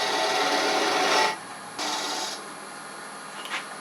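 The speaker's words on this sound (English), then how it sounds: "switch to 3/8 inch spindle gouge so I cut actually straight down the middle" A 3/8 inch spindle gouge cuts wood on a lathe, giving a loud, continuous hiss that stops, then a second shorter cutting pass, then near quiet with a faint scrape.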